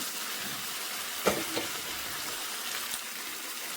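Vermicelli is mixed into chicken masala in a hot pan, giving a steady, close sizzle throughout with a couple of brief scraping stirs partway through.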